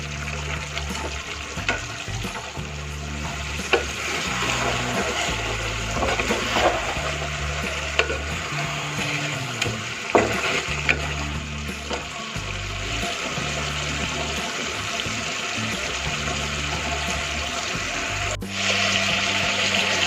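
Chicken curry masala frying over a high flame, with a steady, continuous sizzle and occasional stirring scrapes throughout, close and fairly loud.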